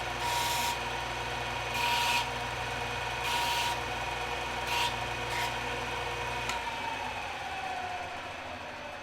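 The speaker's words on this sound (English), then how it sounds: "we'll turn this around and we'll mortise the other two sides" Mortising a wooden snowshoe frame by hand: a few separate scraping, rasping strokes of a cutting tool in wood, over a steady low mechanical hum that drops away near the end, close and moderately loud.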